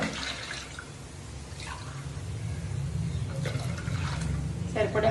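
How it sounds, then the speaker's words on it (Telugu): Water poured into a pot of washed toor dal (pigeon pea lentils) makes a steady, soft splashing and trickling in a kitchen, low and continuous, with a brighter splash near the end. "ఇప్పుడు దీంట్లో సరిపడా నీళ్లు పోసేద్దాం."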